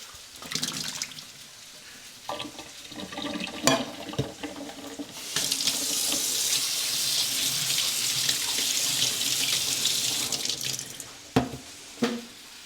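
Butter beans draining from a can in a kitchen sink: running water and liquid splashing into the basin, with a few knocks and clatters at the start and end and a sustained pouring rush in the middle, with no talk.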